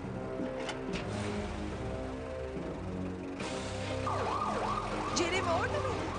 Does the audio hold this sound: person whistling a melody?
no